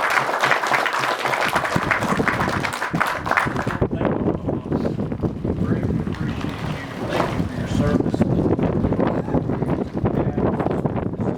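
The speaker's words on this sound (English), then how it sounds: "Let's give them another round of applause for that." A crowd at a Wheelin' Sportsmen event, where the TWRA executive director is speaking, breaks into loud, sustained applause, with rough wind-like rumble on the microphone under the clapping.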